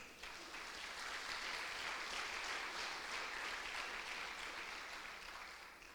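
A congregation claps at a church service, a faint, distant wash of applause that rises and holds evenly for several seconds, heard alone without talk.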